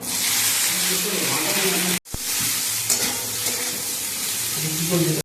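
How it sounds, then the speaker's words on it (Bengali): Egg being fried with capsicum and onion in a pan, a steady loud sizzle with stirring sounds, briefly cut off before resuming. "এগুলোকে একটু ভেজে নেবো।"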